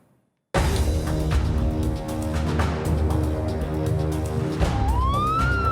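Edhi ambulance siren wailing loudly close by amid city traffic, a continuous tonal siren that sweeps upward near the end, with horns and engine rumble underneath.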